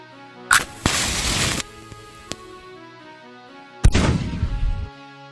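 Two loud cartoon cannon blasts a few seconds apart, each a sharp boom followed by a rushing, crackling roar that fades, with a small pop between them.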